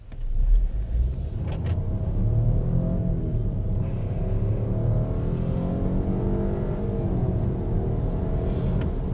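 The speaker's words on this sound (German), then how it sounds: "jetzt schalten wir auf Power und ich beschleunige einfach mal durch." A 2022 Lynk & Co 01 plug-in hybrid in power mode accelerates hard on the road, heard from the cabin as a loud, steady low rumble and rising drive whine with road noise, without speech.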